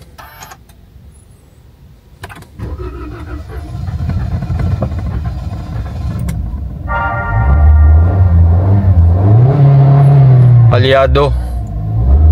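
Toyota Veloz at 80,000 km cranked and started after an earlier failure to start, with a short starter whir followed by a steady idling engine rumble that rises briefly. Voices talk over it.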